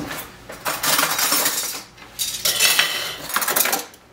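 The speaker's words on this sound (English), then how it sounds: "You don't want spoons? I'll give you spoons." Spoons clattering and clinking together in several loud bursts, with metallic jangling rising and falling between brief pauses and no voices.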